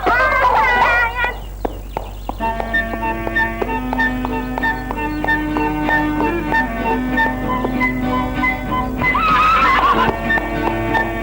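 A horse whinnies in a Tamil film scene, with a shrill, quavering neigh at the start and another near the end, separated by a steady stretch of loud background music.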